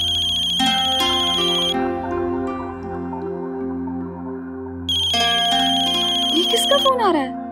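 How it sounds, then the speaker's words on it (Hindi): A mobile phone ringtone plays loudly and clearly, a repeating electronic melody that cuts out briefly and then resumes, with a drama soundtrack setting. "किसका फोन आ रहा है?"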